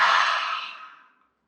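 A single long breathy exhale during a guided stretching routine, loud at first and fading out smoothly over about a second, heard alone with no talking.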